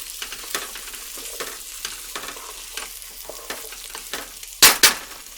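Whole garlic cloves sizzling in oil in a pot for pasta fagioli soup, a soft steady crackle with scattered light stirring scrapes and two sharper bursts near the end, no talking.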